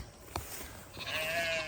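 A single sheep on a farm lets out one wavering bleat, fairly close, after a short knock in an otherwise quiet outdoor setting.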